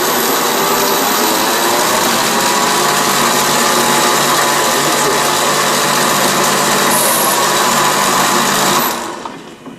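A cheap Chinese mini grinder runs at high speed as it cuts a thread, a loud, steady high-pitched whine holding for about nine seconds before it abruptly cuts out.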